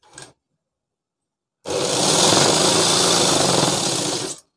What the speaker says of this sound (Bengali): এখান থেকে সেলাই করে নিতে হবে